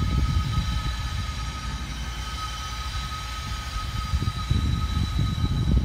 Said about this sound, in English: As y'all can hear, that there's a train.